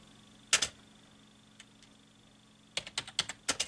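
Computer keyboard typing: a single quick pair of keystrokes, then a faint tap or two, then a brisk rhythmic burst of about eight crisp clicks near the end.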